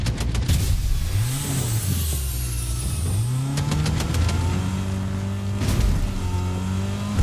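A car engine in the video game Fortnite revs and shifts pitch loudly and up close, rising and falling through gears with sharp clicks and bangs in between.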